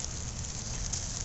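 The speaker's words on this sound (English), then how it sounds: "And it's raining." Steady rain falls beside a homemade grill cooking steak, beans and hot dogs, a soft, even hiss with no distinct drops, faint and continuous throughout.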